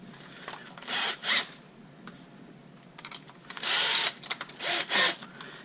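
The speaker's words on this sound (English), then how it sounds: "we're going to drill right where our mark is" A power drill whirs in several short bursts, spinning up and stopping while drilling a hole in an MJX D43 RC car body for an external antenna, with small clicks and handling noises in the quiet gaps between.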